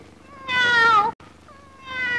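A voice mimics a cat's meow in a Telugu film scene: one long, loud, wavering meow, then a short break and a second, quieter meow that rises at the end.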